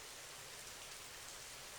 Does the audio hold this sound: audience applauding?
no